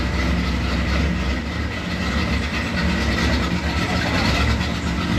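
A carbureted Ford F100 engine idling after a cold start, a steady, loud, low rumble with an even, continuous drone and no talk over it.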